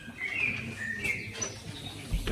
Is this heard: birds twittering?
yes